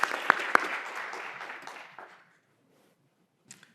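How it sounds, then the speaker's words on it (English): A crowd at a school board of education meeting claps for students, a loud burst of applause lasting about two seconds before it stops abruptly, followed by silence with a faint sound near the end. "Another round of applause for our students."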